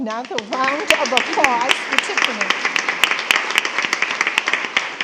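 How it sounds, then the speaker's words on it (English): A round of applause at a school board meeting, with sharp, scattered claps from a small group ringing out under a person speaking. "So if we could have another round of applause for"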